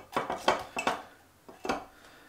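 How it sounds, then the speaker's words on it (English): Butter being mixed into mashed potatoes in a dish, heard as a handful of close, distinct scraping clinks of a utensil against the bowl in an uneven rhythm, with no talking. "so I'll put a blob of butter in there, trying to mix it up"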